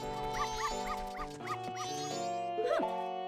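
Game dogs in the dog race of Majora's Mask 3D yip and bark in a quick repeated series over a steady musical background, with no talking.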